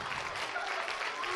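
Applause at a sixth-grade school dance celebration, dense steady clapping from a crowd throughout, fairly loud and unbroken.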